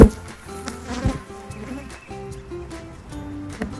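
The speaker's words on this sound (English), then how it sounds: "If I notice that there's a lot of bees up in here" Honeybees hum in a steady, close buzz at an open hive during an early June inspection, with a few louder swells as bees pass near.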